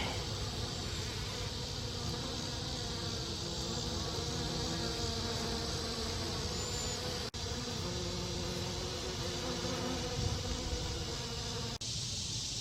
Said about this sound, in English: Look at all the bees on it.